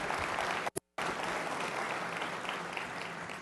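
An audience applauds a band at a forum event with dense, steady clapping that breaks off for a brief moment and then resumes at full strength.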